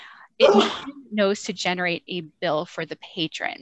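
A single loud sneeze bursts out near the start at a work meeting, followed right after by a person talking.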